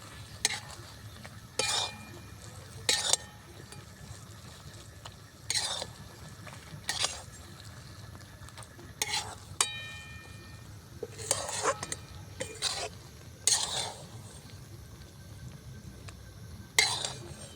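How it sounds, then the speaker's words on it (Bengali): A spoon mixes chalta pickle with beet salt and spices in a bowl, making repeated soft scraping strokes with occasional light clinks at an irregular rhythm over a quiet background. "বিট নুন আর ওই মশলাটা দিয়ে আবারও ভালো করে মিশিয়ে নেব আচারটা"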